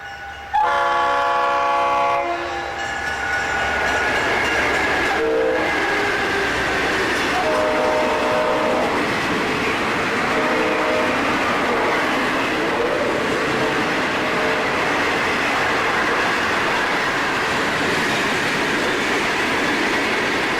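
Florida East Coast train number 216, bound from West Palm Beach to Jacksonville, rolls through town at first light. Several loud horn blasts sound early on, then a continuous heavy rumble of passing cars fills the rest.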